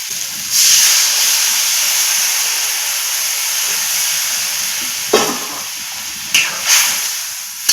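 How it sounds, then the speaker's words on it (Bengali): Water poured onto potatoes frying in spices in a pan, for a fish curry: a loud sustained steaming hiss that fades gradually, with a few clattering stirs and clinks near the end, no voices. "এখন আমি দিয়ে দেবো জল"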